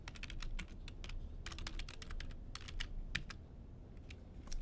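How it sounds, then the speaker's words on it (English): Quick bursts of keystrokes clatter on a computer keyboard during data entry, close and steady with brief pauses between runs of typing. "Let's see if it'll let me expand that while I'm typing it"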